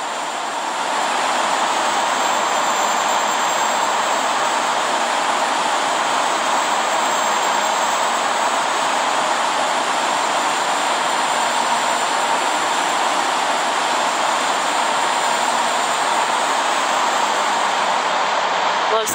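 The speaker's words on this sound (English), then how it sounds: "November 698 Papa Juliet is taking off runway 25 left, departing straight out" A light aircraft takes off from runway 25 left, its engine a steady, loud, broadband roar that holds unbroken and close the whole time, with no voices over it.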